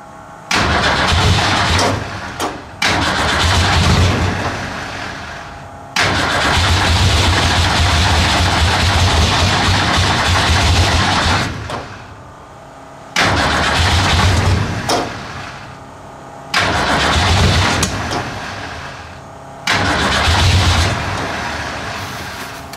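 A modified Mini car engine is cold-started several times, each attempt a loud burst of cranking and revving lasting a few seconds. Short gaps separate the attempts, and the engine finally idles roughly near the end.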